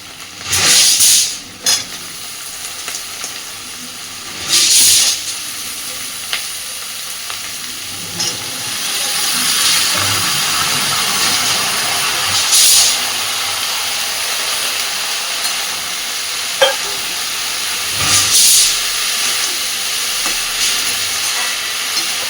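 Cut, washed bottle gourd hits a hot pan for a prawn and gourd dish, setting off a loud, steady sizzle. Several louder bursts of stirring and clattering come through over the constant hiss.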